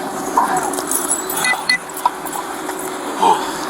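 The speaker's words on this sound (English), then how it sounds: "Car keys." Car keys jangle and clink close by in light, irregular bursts during a police search, heard against a busy background.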